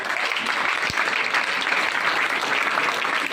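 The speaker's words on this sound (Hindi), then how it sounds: "इनके लिए जोरदार ताली।" Steady, loud applause from a group of students at a school lecture in Udgir, India, fills the whole stretch, dense clapping with no pauses and no voices standing out.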